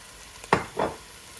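Onions and cauliflower leaf stirred in a frying pan for Punjabi aloo gobi: two quick, close scraping strokes over a quiet background sizzle.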